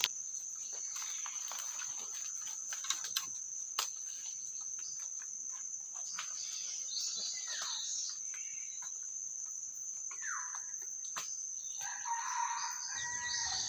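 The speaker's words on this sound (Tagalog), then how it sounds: "Yung alpas panay tilaok ng mga master." Roosters crowing in a rural Philippine setting where native chickens are trapped, with distant drawn-out calls over a constant high cricket drone and scattered bird sounds.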